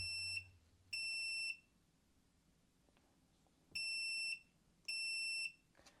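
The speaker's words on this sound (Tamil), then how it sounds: "இந்த மாதிரி பஸ்ஸர் சவுண்ட் வந்து கேட்டுக்கிட்டே இருக்கும்." Buzzer alarm from a fiber laser EDFA module after its input is cut, sounding as four separate steady high-pitched beeps of about half a second each, spaced irregularly in a quiet room.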